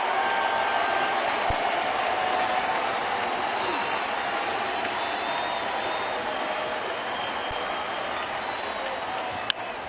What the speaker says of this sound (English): And the crowd getting into it now.